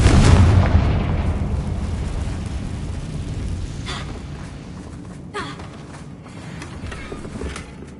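Confringo spell explosion in the video game Hogwarts Legacy, a loud booming blast that rolls into a long fading rumble, followed by a couple of faint crackling pops.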